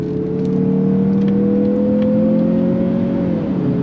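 A 2024 Mazda CX-50 Meridian with all-wheel drive accelerates hard on throttle, its engine droning loud and steady as the pitch climbs slowly, then drops off near the end as it shifts.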